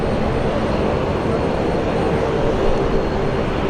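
A Qantas airliner takes off from runway 19 left at Brisbane Airport, its jet engines producing a loud, steady, broad roar that stays constant throughout, with no voices over it.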